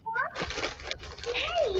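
A house cat meows close up, giving a short call and then a longer drawn-out meow, while a person talks over it.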